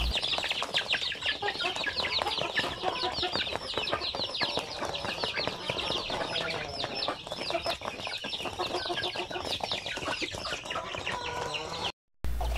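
Basilan native chicken chicks peep constantly in a dense, high-pitched chorus, many birds calling at once close by, broken by a brief dropout near the end.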